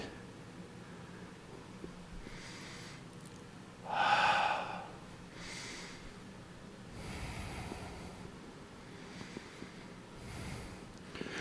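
Slow breathing during a qigong practice, with a quiet inhale and a stronger, louder breath near the middle, then faint airy breaths over light background hiss.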